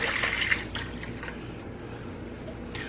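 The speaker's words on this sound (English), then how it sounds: "We're gonna add 6 cups of water." Water poured into a pan of browned meat after the grease was drained, a low, steady splashing and filling sound that is loudest at first and then settles into a softer continuous trickle.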